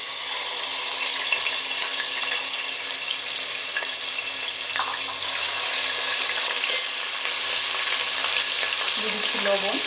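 Onion paste sizzles in a pot of hot oil left over from frying hilsa fish, a loud continuous hiss and crackle that stays steady throughout.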